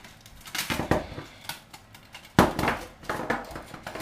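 Metal parts of a small folding camping stove clink and rattle as they are handled and fitted together, with a run of close, sharp knocks and one louder clank midway.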